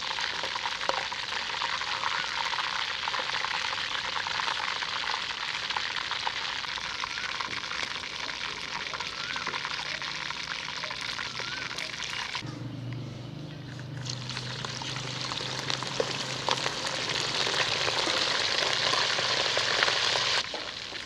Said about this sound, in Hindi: टांग को भी फ्राई होने देंगे क्योंकि ये अच्छे तरीके से फ्राई नहीं हुई